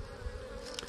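Honeybees buzz steadily around a hive in a northern Kentucky bee yard in February, a continuous close drone with no voices.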